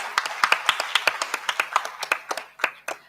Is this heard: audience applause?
yes